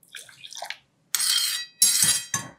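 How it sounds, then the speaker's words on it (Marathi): Water is poured into a pot in three short close splashing bursts with a light clink of metal. The bursts are separated by brief silences. "थोडंसं आणखी पाणी घालते."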